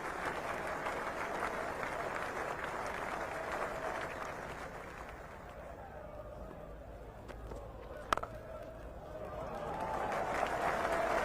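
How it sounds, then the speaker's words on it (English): Cricket crowd applause at Trent Bridge during an England v India Test, a broad sustained clapping that dips midway, with a sharp knock near the end before the applause swells again. "And the applause is for the 300 coming up."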